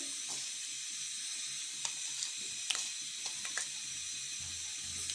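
Marinated rayna fish frying in oil, a soft continuous sizzle with occasional small pops and spatters, fairly quiet and close, no talk.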